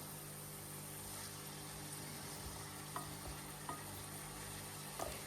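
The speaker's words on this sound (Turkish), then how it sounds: "Bir tane yeşil biber ve bir tane de kapya biberi ekledim. Ve şöyle iyice karıştırıyorum." Onions with green pepper and red kapya pepper stirred in a pan, a continuous low sizzle under faint scraping strokes of the utensil, fairly quiet and steady with no voices.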